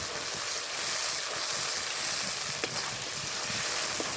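Spices frying in oil for a tengra fish curry with papaya, a steady close sizzle running throughout with faint bubbling texture and no voices.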